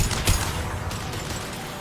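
An impact shot fired in Mass Effect 2: a single sharp, loud blast near the start that trails off into a rumbling, hissing decay, with no voices.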